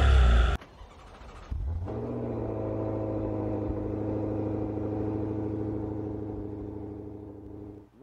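A sharp blip of engine noise, then a 2023 Maserati Ghibli Trofeo twin-turbo V8 settles into a deep, steady rumbling idle that holds evenly, close and fairly loud.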